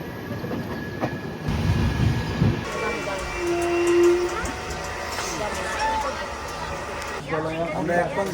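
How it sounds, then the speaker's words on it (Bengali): A late-running Badarpur passenger train pulls into a station on the Guwahati to Dharmanagar route, rumbling and clattering over the rails. A short horn blast sounds partway through, and background voices of people on the platform are heard. "এখন ঢুকছে বদরপুর ট্রেন প্রায় অনেকটা লেট হয়ে গেছে"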